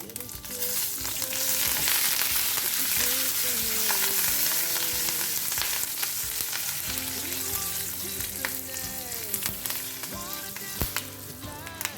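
Curry leaf and asafoetida sizzling in hot oil for a rice and sabudana breakfast, a loud steady crackling fry close by, with background music playing underneath throughout.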